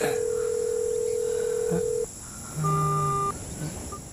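Telephone dialing tones: a long steady tone, then a brief pause and a cluster of short dial beeps, followed by a softer tone, heard clearly with no voices.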